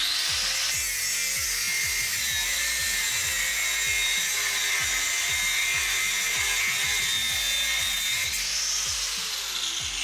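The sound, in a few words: grinder cutting seized track rod end nut on VW Caddy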